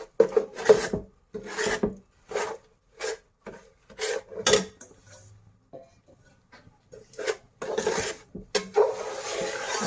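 Semolina and flour being stirred in hot oil in a pan, giving repeated scraping, rasping strokes in a steady rhythm with short pauses, close and fairly loud.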